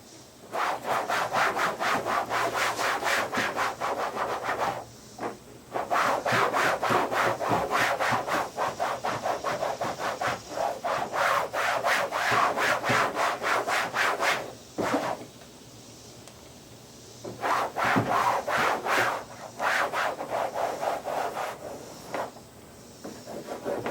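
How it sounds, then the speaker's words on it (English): Wet cloth wiped over a wall after scrubbing with bleach, repeated rough rubbing strokes in long bursts with short pauses, close and fairly loud. "we're going to take a wet cloth and wipe over it and just wipe off the excess"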